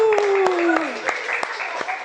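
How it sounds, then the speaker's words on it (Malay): A class of young children claps for themselves in a short burst of scattered, uneven claps while someone speaks over them. "Bagi tepukan untuk diri sendiri."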